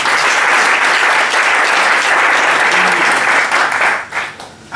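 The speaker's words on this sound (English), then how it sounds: "So I would like you to clap for all the participants once again." Dense, loud applause from a seated audience at a debate championship opening ceremony, steady for several seconds before thinning to a few scattered claps at the end.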